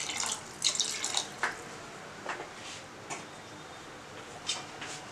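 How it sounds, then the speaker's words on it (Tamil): Water poured into a cooking pot for a simmering masala dish, a soft continuous splashing stream with a few brighter splashes and clinks, close and fairly quiet, no talking. "கொஞ்சம் தண்ணி ஊற்றிக்கிறேன்."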